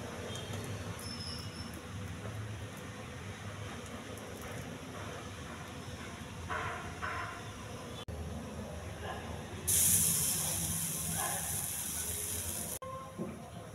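Oil-free vada roasts on a pan over a low flame with a quiet, steady sizzle and faint hiss. A sharper burst of crackling rises near the end, then drops away.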